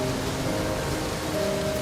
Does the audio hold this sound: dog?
no